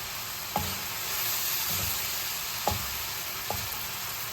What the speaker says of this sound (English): So just lightly brown it. Sear it, is that the word you can use? Sear it.